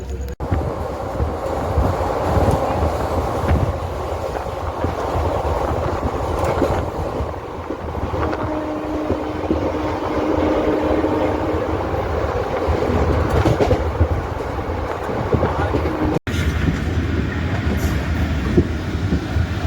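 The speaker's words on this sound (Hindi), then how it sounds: "तो निकल चुकी है आउटर से भी अपनी ट्रेन और अब सीधा रुकेगी ज्वालापुर।" The 14042 Mussoorie Express passenger train runs on rails from Dehradun toward Delhi, giving a loud, steady rumble with clickety-clack rail joints and wind noise throughout, and no voices.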